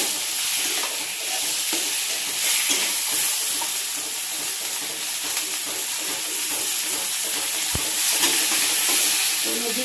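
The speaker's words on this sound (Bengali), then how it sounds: "জিরা বাটাটা দিয়ে আমি নাড়তে থাকি, কারণ যাতে জিরা বাটাটা আমার কড়াইয়ের সঙ্গে লেগে না যায়।" Cumin paste fries with green chillies in a wok for a small bele fish curry, giving a continuous close sizzle and hiss broken by repeated scraping stir strokes, with no talking.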